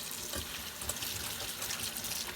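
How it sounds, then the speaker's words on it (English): Snow peas rinsed under a running kitchen tap for a pork and vegetable stir fry, a steady close rush and splatter of water continuing throughout. "I'm going to rinse it."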